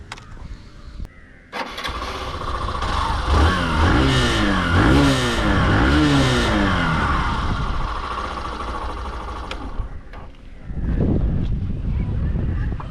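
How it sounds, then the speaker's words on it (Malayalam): Hero Glamour Xtec 125 motorcycle with its cover removed, starting up with a short crank, then a smooth, close exhaust note revving up and down several times before settling to idle. "നമുക്കിതിൻ്റെ എക്സോസ്റ്റ് നോട്ട് കാര്യങ്ങളൊക്കെ ഒന്ന് കേട്ട് നോക്കാം."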